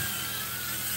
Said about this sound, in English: I hope no one sent this drone over.